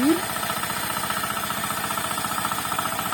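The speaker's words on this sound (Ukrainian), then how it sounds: "трохи важкувато чоловікові управлятися з мотоблоком" A walk-behind tractor fitted with a homemade potato digger chugs steadily in a field, its engine giving a fast, regular knocking beat throughout at moderate loudness.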